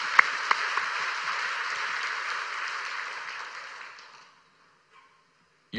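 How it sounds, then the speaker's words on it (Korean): A church congregation applauding during a worship service, a steady roomful of clapping that gradually fades out and ends in near silence. "감사의 박수로 영광 돌리겠습니다."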